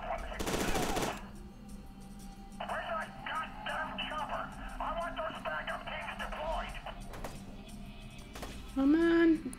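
Gunfire crackles in the F.E.A.R. 2 video game: one heavy burst opens, then rapid automatic shots rattle through the middle amid game sounds, with a garbled radio-like voice near the end.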